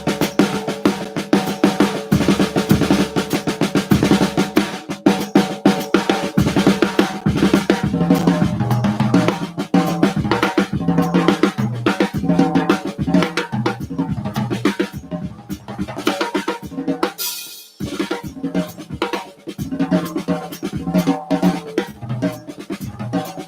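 A drum kit plays stutter rudiment patterns with eighth-note melodic fills spread across drums and cymbals, dense and loud, with a brief pause near the end before the groove resumes.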